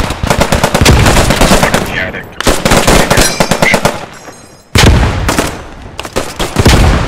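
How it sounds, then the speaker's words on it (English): Intense rapid gunfire and a heavy blast in the World War II shooter game Post Scriptum, with dense, loud bursts continuing almost without pause and a short lull partway through. "I'm tossing a grenade up there."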